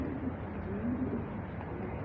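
A young pigeon coos softly in low repeated murmurs, steady and close against a constant background hum, with no talking.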